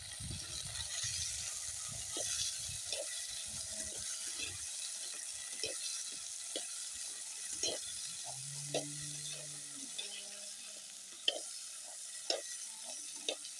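Indian gooseberries stirred with a ladle in a frying pan, a steady soft sizzle under scattered scraping and clinking strokes, close and quiet with no voices.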